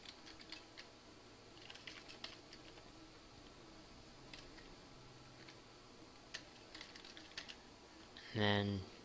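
Typing on a computer keyboard, light scattered clicks in short bursts, faint and close, ending with a brief louder tone.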